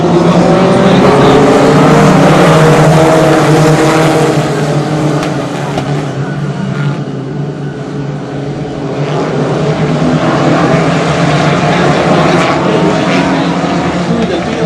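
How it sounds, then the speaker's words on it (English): Four-cylinder Pro Stock race cars at Wiscasset Speedway roar steadily, engine drone dipping briefly mid-clip before building again, with commentary-style voices underneath. "So we get some highlights from the four-cylinder Pro Stocks over there at Wiscasset Speedway."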